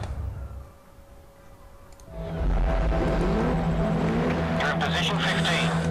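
A Caterham race car engine idles quietly in the Grid Autosport video game, then jumps to a loud, sustained revving drone as the race starts. A voice talks over the quieter opening.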